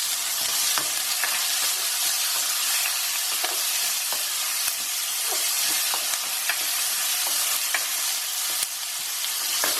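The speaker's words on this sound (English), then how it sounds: "we're just going to saute the onions till they're softened" Onions sautéing in a pan for Indian dhal with spinach curry, after asafetida: a steady, close sizzle and hiss with scattered spoon scrapes and stirring clicks, no voices.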